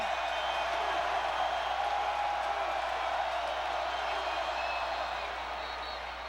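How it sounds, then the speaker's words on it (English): A football stadium crowd roars on third down at a 2006 Ole Miss vs LSU game, a steady broad wash of cheering and whoops that fades slightly toward the end. "Listen to this crowd on 3rd down."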